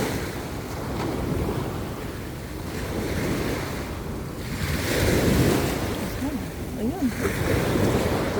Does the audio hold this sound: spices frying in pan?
no